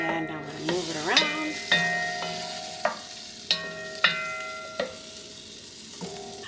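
Salchichon (Puerto Rican salami) sautéing in a pot for soup while being stirred: a soft sizzle under repeated sharp clinks and scrapes of a utensil against the pot, close and fairly quiet.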